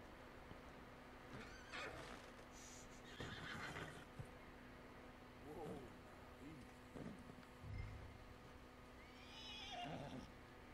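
Horse neighing and whinnying from a horse in Red Dead Redemption 2, several separate calls spread through the scene with soft hoof clip-clop, fairly quiet overall, with a person talking in between.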